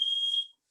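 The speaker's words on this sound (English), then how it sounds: "I have everything closed in my house and the alarm is on" A home security alarm sounds a single steady high-pitched electronic beep for about half a second, fairly close and alone, then cuts off into silence.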